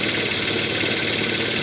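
A brushed electric motor runs steadily while its brushes are still breaking in, giving an even, close mechanical hum with a continuous whine and no pauses or talk.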